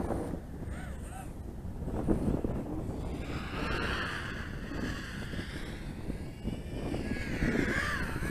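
A Diatone GT M515 FPV racing drone in flight outdoors, its motors whining and rising and falling in pitch at a moderate distance, with wind buffeting the microphone.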